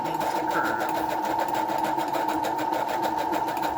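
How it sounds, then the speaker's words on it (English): A sewing machine stitches through paper along a curved line for a handmade Christmas ornament tag, running in a steady, fast, continuous whir with no pauses, close and alone. "put the needle down and just go let the machine move the paper"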